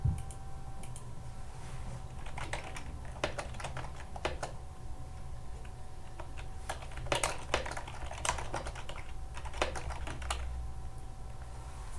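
Fingers type on a computer keyboard to enter a note on a time card screen, with irregular bursts of clicky keystrokes and short pauses between words, moderately close and clear.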